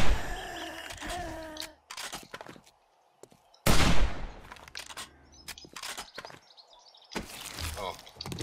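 Sharp, loud hunting rifle shots in the survival game 7 Days to Die, firing 7.62 ammunition, crack out as separate blasts with echoing tails, mixed with thuds, footsteps and someone talking between shots.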